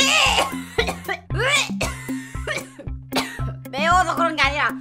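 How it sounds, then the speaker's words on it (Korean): Someone eating spicy ramen coughs repeatedly, with sharp, close bursts in quick succession. The coughs are mixed with breathy vocal sounds and short remarks. "공기를 들어 마실 때마다 기침이 나오네."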